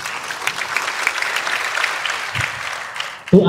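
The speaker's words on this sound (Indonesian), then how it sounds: "Tepuk tangan gitu." Steady applause from a group, a dense wash of clapping that continues evenly, with a brief louder knock near the end.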